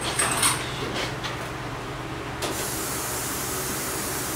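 Quiet, continuous hissing spray with a few brief louder bursts near the start, close by and otherwise steady.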